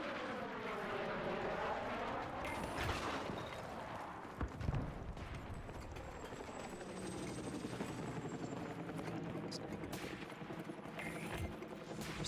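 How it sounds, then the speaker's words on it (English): A military helicopter flies over a battlefield in the video game Battlefield 6, its rotor drone rising and fading across the scene, with a burst of gunfire partway through and no talk. "Where's the helicopter? I keep hearing it."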